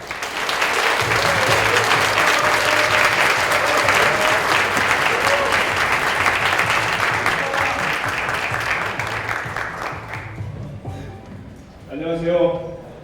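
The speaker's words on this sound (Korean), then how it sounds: "자, 그러면 임 작가님을 무대 위로 맞이할 텐데요. 큰 박수 부탁드릴게요." An audience at a programmers' conference claps loudly for a keynote speaker walking onto the stage, a dense sustained ovation that fades near the end as a voice begins speaking.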